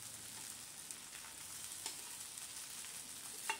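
Washed poha tipped onto softened potatoes frying in a pan, giving a steady close sizzle with light stirring scrapes and a couple of soft clinks, no voices.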